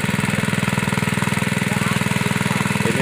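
A well drilling machine boring for irrigation water in rice fields runs steadily, a loud rapid mechanical pounding rhythm like a jackhammer, continuous and close throughout.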